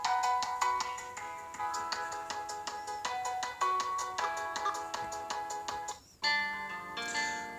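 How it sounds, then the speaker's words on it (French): A YU Fly F8 phone plays a melodic electronic ringtone, not a Google tone, with bright repeating plucked notes in a steady rhythm, loud and close, cutting off briefly before a new tone starts near the end. "Sonnerie du téléphone"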